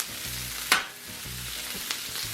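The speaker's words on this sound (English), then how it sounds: "But now we're going to cook the veggies over here a little bit." Vegetables sizzle and fry steadily on a hot Blackstone griddle, with a sharp scrape of a spatula stirring them partway through and another lighter scrape near the end, all close and without talk.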